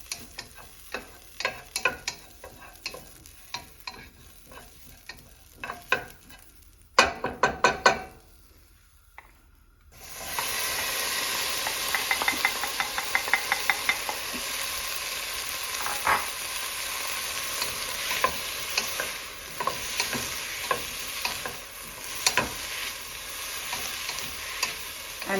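Ginger, cumin seeds and green chili roasting and being stirred in a pan for okra, a steady close sizzle with scraping stir strokes and a brief louder clatter, then a louder, denser frying hiss through the rest.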